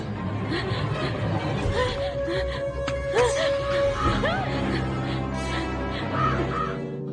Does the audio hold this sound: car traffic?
no